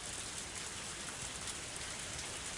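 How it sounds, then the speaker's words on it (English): Steady rain pours down in the Higurashi video game, a dense, even hiss of drops on surfaces that holds at a constant level throughout with no voices. "It was raining."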